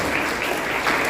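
A congregation at a charismatic prayer and holy mass in a church breaks into a short, loud burst of dense applause welcoming a priest, close and even throughout.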